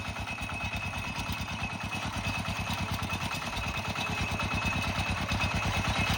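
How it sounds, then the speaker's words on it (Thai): An 11 horsepower walk-behind tractor ploughs a rice field, its engine a fast, steady, mechanical thumping that runs unbroken throughout at a constant, fairly loud level with no talking. "อันนี้รถไถเดินตามของแท้เลยพี่น้องนี่"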